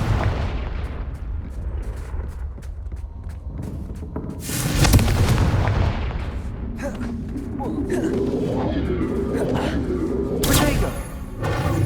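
Confringo blasting spells in the video game Hogwarts Legacy set off heavy booming explosions with rumbling tails, one large burst midway and another near the end, loud, with voices heard in places.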